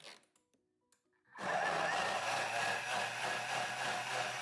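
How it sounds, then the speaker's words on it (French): A kitchen blender running at speed 10 to make a peach juice smoothie, starting abruptly after a few quiet clicks and then whirring loudly and steadily close by, with no talk. "Alors, il faut mettre 1 minute 30 à vitesse 10."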